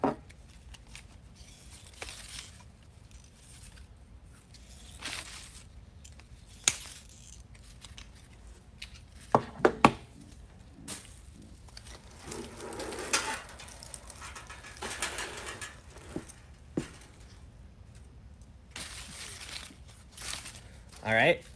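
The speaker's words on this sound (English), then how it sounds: "this one we're gonna cut up into smaller pieces" Grapevine being cut into smaller pieces for a rooster wreath, with scattered snips, woody cracks and rustling of vines, some crisp and close, others faint, amid quiet handling noise and a few louder clicks.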